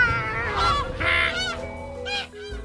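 Geese honk repeatedly in flight in a cartoon scene, a dense chorus of overlapping calls at close range with no talking.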